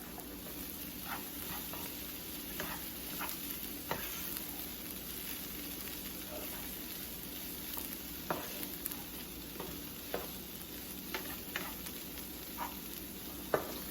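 Cilantro lime rice sizzles steadily in a hot pan while a utensil scrapes and stirs it in soft repeated taps, fairly quiet and close with no talking.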